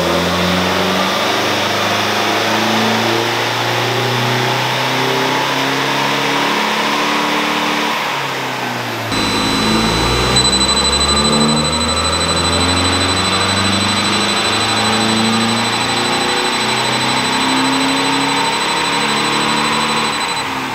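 A Nissan Navara D40 fitted with an upgraded high-flow turbo and a 3-inch turbo-back exhaust runs on a dyno in a garage. It gives a loud, sustained engine roar that builds and climbs, and a thin high whistle joins partway through.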